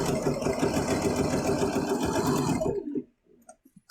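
A sewing machine runs a quilt seam on a jelly-roll Bargello quilt, with a fast, even mechanical whirring chatter that is close and loud for nearly three seconds, then stops abruptly, followed by a few soft clicks.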